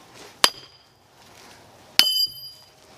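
A hammer strikes a metal wedge driven into a wet olive tree log twice, about a second and a half apart. Each blow is a sharp, loud, ringing metallic clang over quiet outdoor background.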